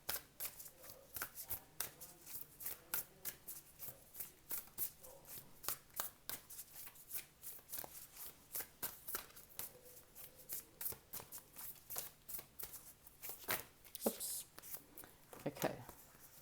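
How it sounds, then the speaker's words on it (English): Whispers of Love oracle cards shuffled continuously by hand, a fast, steady run of crisp flicking and slapping card sounds, close and fairly quiet, going on for the whole stretch. "Let me get 3 cards from my Whispers of Love Oracle."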